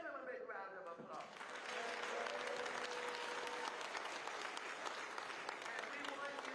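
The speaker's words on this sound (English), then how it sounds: "give him a big round of applause" A crowd at a Lakers ribbon-cutting ceremony with a guest breaks into a big round of applause for an honoured man, clapping dense and sustained, with voices audible in the mix at the start.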